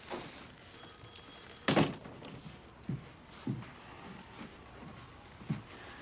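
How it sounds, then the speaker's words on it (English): A door shuts with one solid thunk just after a brief electronic ring, then soft footsteps thump quietly in a room. "Close the door."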